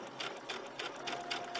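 Home sewing machine running in short bursts while stitching the hemline of a knit blouse, about six quick rhythmic pulses of whirring stitches, close and clear.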